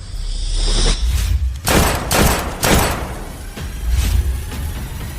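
Several heavy gunshots crack out in quick succession, loud and close, with booming low-end thuds between them and no voices over the shots.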